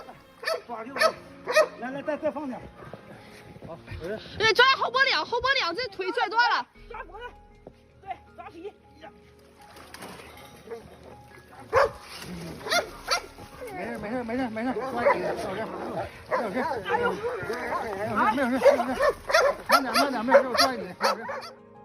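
A dog rescued from an icy lake barks, yips and whimpers in bursts, fairly close, with voices talking around it and quiet gaps between the bouts of noise.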